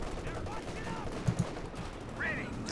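An M20 armored vehicle firing on an MG34 machine-gun position in Company of Heroes 2: a faint, steady rattle of automatic fire under a busy battle din, with a couple of brief thumps midway.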